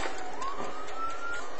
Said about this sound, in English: I assure you those fire engines are not coming over to my house.